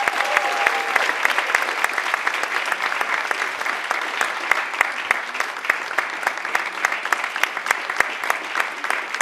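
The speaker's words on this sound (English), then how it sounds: "Big round of applause, let's hear it." Audience at a Haitian roundtable event applauding to welcome a speaker, a dense, steady wash of clapping from many hands that carries through the whole stretch, with no voice above it.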